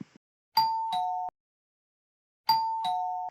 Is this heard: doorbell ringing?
yes